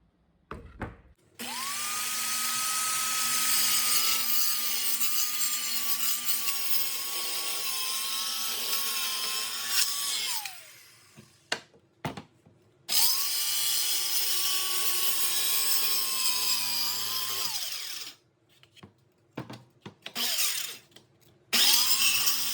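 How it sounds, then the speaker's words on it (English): Power saw cutting half-inch pieces of metal during repairs on a Jacobsen Chief 800 garden tractor, two long sustained whining cuts with a steady tone, separated by a short pause and followed by clunks and handling noises. "Now we'll cut those 1/2 inch pieces off."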